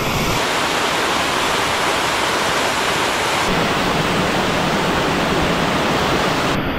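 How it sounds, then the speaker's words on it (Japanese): A mountain waterfall on the Yonako-zawa stream roars loud and close, a dense, constant rush of falling water that fills everything with no voices heard. "よう滝だ。"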